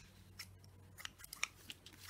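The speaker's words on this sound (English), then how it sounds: "So now I'm going to cut off the excess." Scissors trim the excess paper from a recycled junk mail envelope, a quick run of several faint, crisp snips close by.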